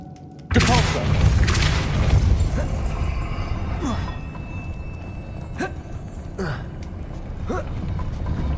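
Depulso spell cast in Hogwarts Legacy: a sudden loud boom opens the clip, then a sustained rumbling ambience with a few sharp thuds and whooshes scattered through it.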